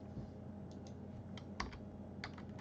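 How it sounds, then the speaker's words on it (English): Several sharp computer keyboard keystrokes come in small clusters, as if pressing a shortcut combination, close and crisp over a steady room hum with no talking. "I'm going to do Control N on the keyboard here."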